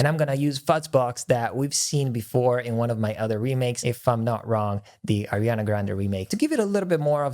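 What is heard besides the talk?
No everyday noises stand out.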